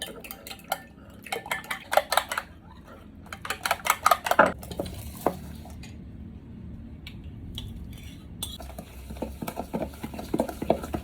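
Two eggs are beaten with a spoon in a bowl for cake batter, giving bursts of quick clinking and scraping taps that come in clusters with short pauses between them, close and fairly quiet.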